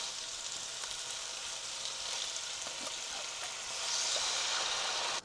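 Coconut milk sizzles and bubbles in a hot pan with red curry paste for a Thai red curry, a steady close hiss that swells louder toward the end, with no talking.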